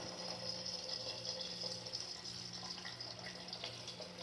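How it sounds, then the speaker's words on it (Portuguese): Water pours steadily into a pot for cooking tripe, a continuous rushing splash heard fairly close and alone, with no talking. "Vou colocar água."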